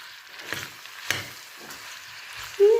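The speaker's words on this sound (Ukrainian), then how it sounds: "І до готовності цибульки ще підсмажуємо" Onion fries in oil and a knob of butter with a soft, low sizzle. A few distinct stirring scrapes come at a slow, regular pace, followed by a brief louder clatter at the end.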